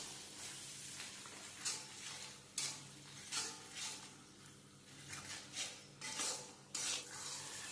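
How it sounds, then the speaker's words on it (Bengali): Spices sautéed in a pan for a Bengali potato-and-pointed-gourd oil chorchori: a low sizzle with repeated scraping strokes of a spatula, each stir a short bright swish at a steady uneven rhythm, quiet and close. "এবার এই সব মশলাগুলোকে ভালো করে কষিয়ে নেব।"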